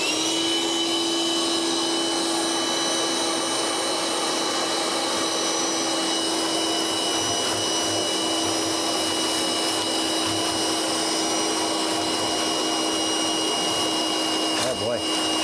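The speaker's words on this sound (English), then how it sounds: "Turn the vacuum on and start cleaning." A vacuum cleaner runs loudly and continuously while cleaning lint from a clothes dryer and its vents, a steady high motor whine with airy hiss and occasional changes in suction as it moves.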